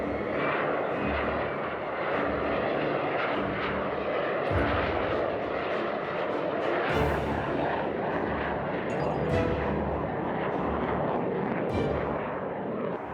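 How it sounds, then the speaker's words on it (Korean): A fixed-wing aircraft takes off, its engine roaring loud and continuous for the whole stretch, a broad steady rumble with surges, close and overwhelming with no voices. "일단 비행기가 뜰 때는 너무 시끄러워서 저희들이 깜짝깜짝 놀라고요"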